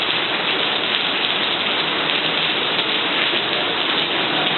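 Heavy rain pouring steadily in Singapore, a dense, continuous hiss of downpour close by and loud, with no talk over it.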